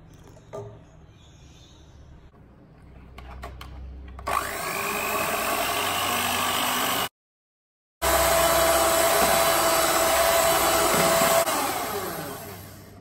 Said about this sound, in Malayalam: ഈ വിപ്പിംഗ് പൗഡറിൽ 1/4 കപ്പ് തണുത്ത പാൽ ഒഴിച്ചിട്ട് ഇത് എഗ് ബീറ്റർ കൊണ്ട് നന്നായി ബീറ്റ് ചെയ്തെടുക്കണം